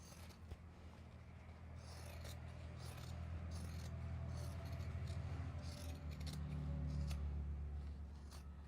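Scissors trim Japanese fabric for sewing accessories, making a series of faint, soft snips and scraping rustles over a low background hum, with no talking.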